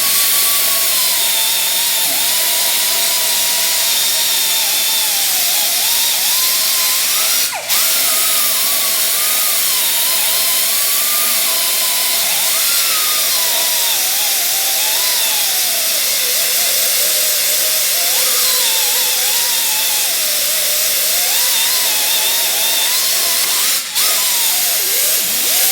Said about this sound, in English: you would just simply continue using the die grinder until you have polished